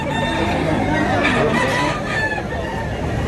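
Several roosters crow over one another at a busy chicken market in Tabunok, Cebu, their overlapping calls rising above a continuous crowd babble.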